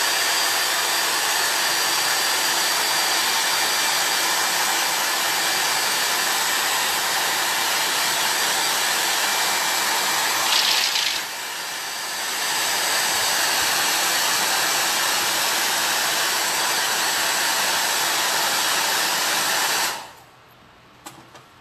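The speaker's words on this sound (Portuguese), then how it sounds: "Com o secador." A handheld hair dryer blows steadily close by while face paint dries on a child's face, a loud continuous whooshing roar that dips briefly midway and cuts off near the end.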